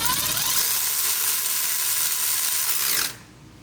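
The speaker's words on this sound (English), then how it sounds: "you slide the nut inside of that jam piece and then just tighten it up" Grade 8 nuts being run onto Jeep Cherokee XJ suspension links with a power tool: a loud, close, continuous whirring ratchet for about three seconds, then a sudden stop.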